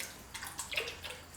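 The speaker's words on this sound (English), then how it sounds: "Okay, and now pour it out like that." Raw glaze pours out of a ceramic pot in soft, faint splashes and trickles. The liquid comes in a few uneven bursts over about a second, close by and otherwise quiet.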